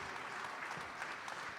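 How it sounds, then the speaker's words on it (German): A podcast-day audience applauds the host, brief scattered clapping heard faintly at a distance. "Einen großen Applaus für den Hausherrn."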